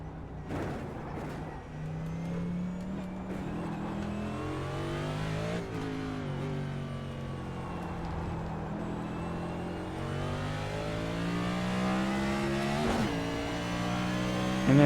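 A race car engine lapping Autódromo Hermanos Rodríguez in iRacing, a loud continuous drone that climbs and drops through repeated gear changes, revving up between shifts with no voices.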